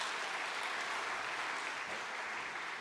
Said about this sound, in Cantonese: 咁我哋俾啲掌聲佢，係歡迎佢哋